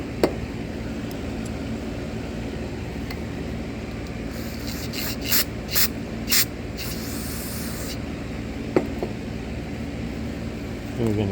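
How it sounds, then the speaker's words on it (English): Brake cleaner sprayed from an aerosol can onto a 2009 Ford Escape part on a box fan workbench in a garage, several short hissing bursts in quick succession over a steady fan hum. "I got some brake cleaner. We're going to douse it down."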